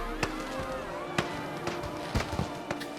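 Fireworks in the video game Planet Coaster, set at an Atlantis-themed park, burst as a handful of sharp pops and crackles scattered across a few seconds over a low ambient bed, moderately distant, with faint talk underneath.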